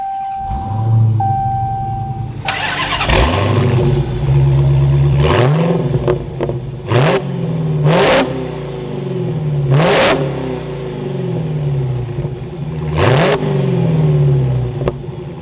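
A Dodge Challenger SRT Hellcat V8 engine cranks and catches, then settles into a rumbling idle broken by several loud, sharp revs that climb and fall back, close by.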